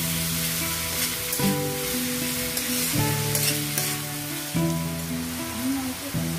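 Onions fry in a pan with a spoonful of sugar for a spicy mutton kosha, a soft steady sizzle running beneath gentle background music.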